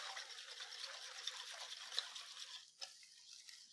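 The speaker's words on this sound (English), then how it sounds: "we'll just whisk this all together" Whisking a turkey sausage breakfast casserole mixture in a bowl, heard as a quiet, steady wet swishing and dripping with a few brief clicks of the whisk against the side, with no talking.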